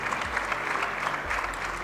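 Applause from the audience at a film premiere in Ethiopia, a dense, even wash of many hands clapping continuously, with a low hum underneath.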